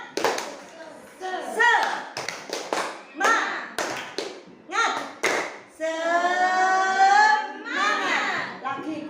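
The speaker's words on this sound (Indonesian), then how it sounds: "Tepuk semangat." A classroom of children performs a rhythmic spirit clap, sharp patterned claps and taps in quick bursts, mixed with the kids' voices chanting along and a sustained group shout near the end.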